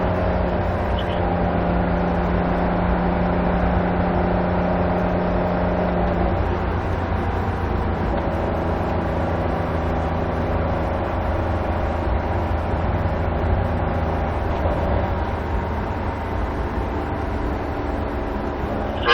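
A car driving on the Barber Motorsports race track, its engine a steady, loud drone accelerating uphill, continuous throughout with no voices.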